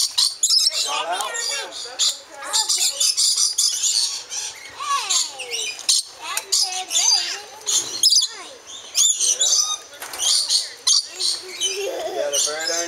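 Parrots chirp, squawk and call in a dense, busy chorus of sharp, close, overlapping bursts throughout, with people talking at times alongside.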